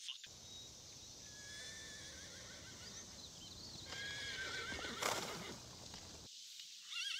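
Horses whinny and neigh several times close by, with scattered hoof clops and shuffling in between, then quiet at the end.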